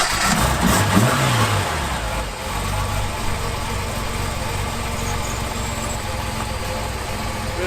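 A Reliant Scimitar's engine runs steadily at a low idle as the car rolls, a continuous close rumble with faint mechanical noise throughout.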